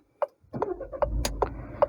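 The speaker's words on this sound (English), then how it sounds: "And let's turn on the car. Here's the button to turn on the vehicle." A 2021 Citroën C5 Aircross starts from its push button with a few clicks and chimes, then a low engine rumble settles in under repeated short ticking tones.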